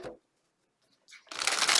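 Tarot cards riffled and shuffled close by, a short burst of papery rustling, then a brief pause before a louder, sustained shuffle.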